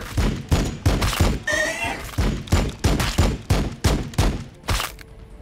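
Gunfire from units firing on the enemy in the video game Warhammer 40K Battlesector: loud, evenly spaced heavy shots boom in a steady rhythm of about ten blasts, with brief unit voices between.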